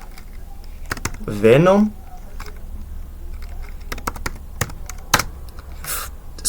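Keystrokes tapped out on a computer keyboard while a terminal command is entered: scattered light clicks spread through the clip, with a short spoken word near the start.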